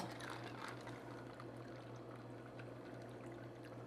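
A margarita cocktail pours into a glass with ice, giving a soft, steady liquid stream that runs continuously and faintly, with no talking over it.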